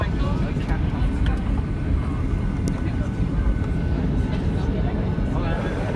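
Ryanair Boeing 737-800 taxiing to the gate after landing: a steady, loud cabin rumble of engines and rolling gear fills the whole stretch, with quiet voices murmuring underneath.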